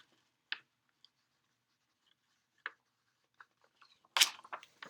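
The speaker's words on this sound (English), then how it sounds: "I'm going to write my notes real quick." A pen writes notes in a few short, separate scratches with long quiet gaps between them, close and faint, ending in a brief denser burst of scribbling.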